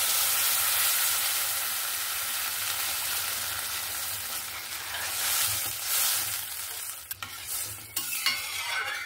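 Water is poured into a sizzling, fried spice mixture for a thin hilsa fish curry tempered with nigella seeds. Loud hissing sizzle and stirring surge, then settle into bubbling with a few sharp clatters near the end, no talking.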